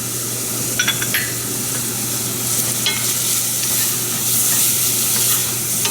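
Cajun spice mix sizzles loudly in a hot pan while being stirred, a continuous close hiss with occasional light scrapes of a utensil.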